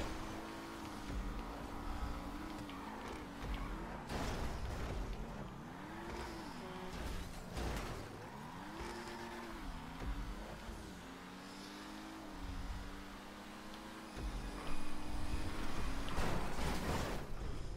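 An Ocelot Lynx sports car races on a hillside track in GTA 5, its engine note rising and falling through gear shifts with steady revving and a louder surge near the end, under ongoing game noise.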